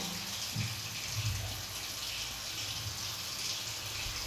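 Water poured into a pan of simmering paneer bhaji curry produces a steady, soft gushing splash that runs evenly throughout, close by and without speech.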